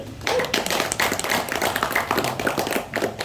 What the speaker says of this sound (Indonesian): Aplaus dulu buat kita